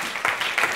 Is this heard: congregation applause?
yes